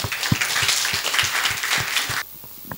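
Audience applause welcoming a promoter at a childcare-themed event, a dense steady round of many hands clapping that cuts off abruptly near the end, leaving a quiet room.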